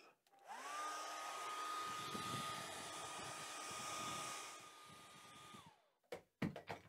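A hair dryer blows to dry a painting, starting up with a rising whine and holding a loud, steady airy drone for about five seconds before spinning down, followed by a few sharp knocks.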